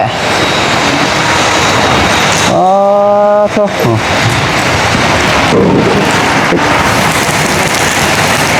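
Heavy rain pours steadily in a dense hiss, with a brief tonal whine, like a passing engine or horn, cutting through midway.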